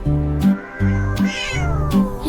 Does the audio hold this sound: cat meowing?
yes